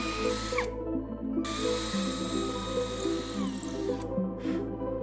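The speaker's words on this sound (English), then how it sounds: "Drill these 3 holes with a 5mm diameter drill bit." A power drill with a 5mm bit boring holes into a wooden lid, a steady whirring motor tone running throughout at close range with slight load changes as the bit cuts, no voices.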